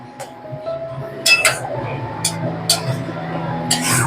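A spoon clinks sharply against a pan while thor bata, a banana-stem paste, is stirred dry on the stove, with several bright metallic taps at irregular intervals over low kitchen background noise.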